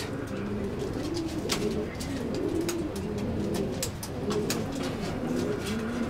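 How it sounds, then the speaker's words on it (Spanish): Pigeons cooing steadily at close range while being fed, soft repeated coos under sharp clicks and rustles, with no talk. "a darle de comer a las palomas."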